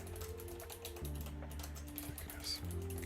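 Keys clack on a computer keyboard while a keyboard shortcut is typed, a few soft taps over a constant low electronic hum and quiet background tones.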